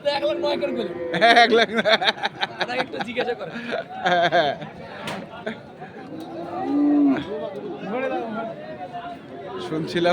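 Cattle at a rural weekly livestock market in Ambari, where farm-ready bulls are traded, give a few low moos amid constant loud crowd chatter and bargaining voices close by.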